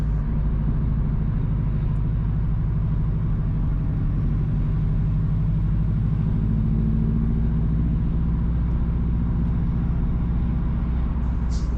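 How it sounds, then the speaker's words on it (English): A car drives east along a rural road near Litchfield in Trelawny, Jamaica, with a close, steady low engine rumble and road noise that rises slightly in the middle and continues unbroken. "Currently, we are driving east from Waitabit towards Litchfield."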